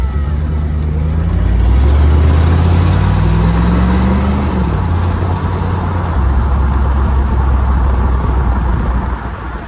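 A 1996 Jeep Grand Cherokee with the 5.2 engine, with a new idle air control valve fitted, runs steadily after being put into drive. It gives a loud, continuous low rumble whose pitch rises and then dips partway through.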